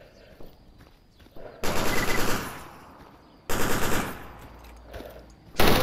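Automatic gunfire from the video game STALKER Anomaly, with two loud, dense bursts of rapid shots between quieter stretches and a final sharp burst at the end, mixed with faint footsteps and game ambience.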